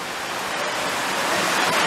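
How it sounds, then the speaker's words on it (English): Heavy rain pours down steadily at an amusement park, a loud, dense, unbroken hiss filling the whole moment without any voices. "It's raining so hard."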